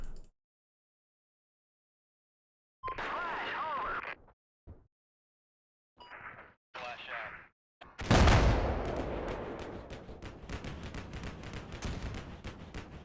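Artillery rounds falling in Combat Mission Black Sea: after short bits of talk, a loud blast lands near the end and is followed by a run of repeated crackling impacts and rumbling that carries on to the close.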